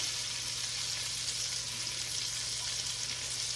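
Lamb chops sear in a hot pan with a steady, dense sizzle and crackle that runs unbroken throughout, close and fairly loud, with a low hum beneath and no talk.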